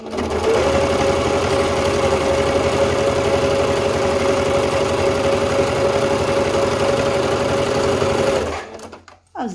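A sewing machine runs steadily and loudly, stitching across three layers of fabric at the top edge of a handmade summer crossbody bag, then stops abruptly near the end with a brief clatter.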